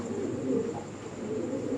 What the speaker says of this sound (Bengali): এখানে আছে দেখতে পাচ্ছেন খুব সুন্দর কবুতর